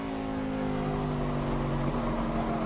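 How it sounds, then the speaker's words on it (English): An ARCA race car at Iowa Speedway sliding loose through a corner, a steady loud engine drone with a brief rough chatter from the rear tires near the end, no talk over it. "could hear the rear tires chatter as he got down in the corner, just got loose"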